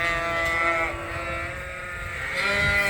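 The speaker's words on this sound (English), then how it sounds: "it's really easy to move sheep from barn to barn and to feed sheep" Sheep bleating inside farm barns, a sustained harmonic cry rising and holding through most of the stretch, close and fairly loud over a rustling barn background.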